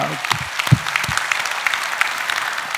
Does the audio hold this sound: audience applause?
yes